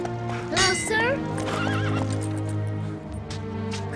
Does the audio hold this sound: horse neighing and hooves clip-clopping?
yes